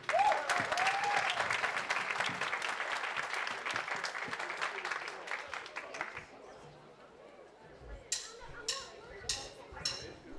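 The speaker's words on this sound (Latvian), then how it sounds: "Aplaus Ervingam." Concert audience applauding at a school reunion, dense crowd clapping for about six seconds that thins out, followed by a few scattered sharp claps and low murmuring.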